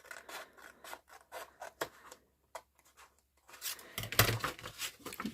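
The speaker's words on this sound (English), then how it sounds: "So cut one side of my score line, and then cut the other side." Paper being cut along a score line, soft repeated snipping and scraping strokes close by, followed by a louder rustling, tearing flurry as the paper is handled.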